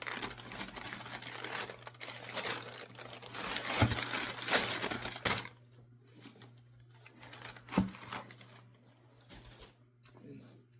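Pink and purple wrapping paper inside an Air Jordan 1 OG High Muslin shoe box crinkles and rustles loudly in bursts for about five seconds, then settles to quieter, sparse rustles and a couple of sharp crackles.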